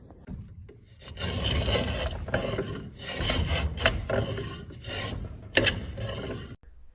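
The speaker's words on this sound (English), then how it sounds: "using this plane to flatten these surfaces" Repeated rasping strokes of a hand plane flattening the surfaces of a wooden hammer handle, several close, rhythmic passes separated by brief pauses.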